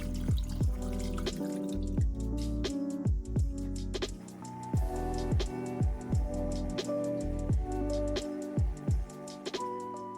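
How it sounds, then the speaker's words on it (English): Water pours and splashes into a paludarium aquarium filter being primed, with bubbly gurgling and dripping blips repeating irregularly up close, steady throughout without speech. "Now I'm priming the filter by simply filling it up with some water."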